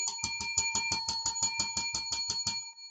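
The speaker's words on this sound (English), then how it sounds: "Let's ring the bell." A bell rung for the stock market open makes a rapid, bright electric ringing, about a dozen even strikes over a couple of seconds, loud and close, then stops, with no talking.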